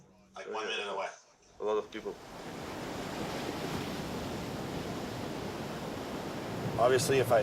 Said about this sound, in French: Il regarde toujours les vagues.